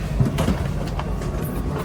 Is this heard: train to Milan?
yes